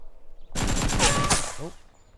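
A sudden burst of rapid gunfire in PUBG, about a second of fast repeated shots that ends abruptly and fades to quiet.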